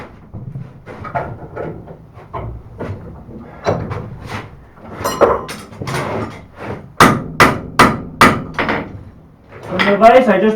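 Hammer blows on a steel knife preform being flattened to handle thickness, a run of sharp metallic strikes that grows louder and faster toward the middle, near and clear, with a short pause between bursts.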